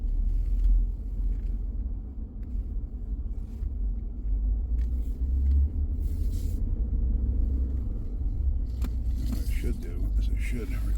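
A car with a stalling problem after refueling drives up a road, a steady low engine and road rumble close and continuous throughout, with scattered brief knocks and rattles and some talk inside the cabin.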